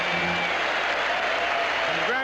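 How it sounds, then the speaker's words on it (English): Baseball crowd at a 1984 Tigers vs. Yankees game applauding Don Mattingly and Dave Winfield, a steady wash of clapping and cheering throughout, with a broadcaster's voice over it. "these fans are up applauding them both"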